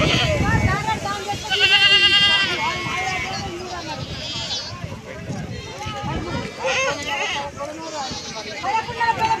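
Goats bleat at a weekly livestock market where a farmer offers ten goats for sale, several wavering calls rising over steady crowd chatter and people talking nearby.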